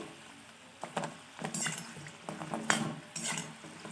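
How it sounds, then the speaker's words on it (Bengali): Jeera biscuits made from wheat flour being stirred while frying in oil: soft metallic clinks and scrapes of the spoon against the pan in uneven strokes over a quiet sizzle. "বন্ধুরা দেখুন আমি খুব সুন্দর নেড়ে ব্রাউন কালার করে ভেজে নিই বিস্কুটগুলো"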